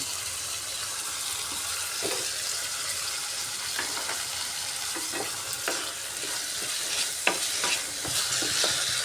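Soaked soybeans and fried potatoes cook in a hot pan with a continuous sizzle, while a spatula scrapes and stirs in repeated strokes close by.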